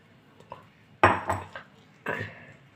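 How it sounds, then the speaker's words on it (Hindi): Tamarind pulp added to melted jaggery in a cooking pan, heard as a few clear clinks and scrapes of a utensil against the pan, close by with quiet pauses between them. "अब मैं इसमें इमली का पल्प डालूँगी"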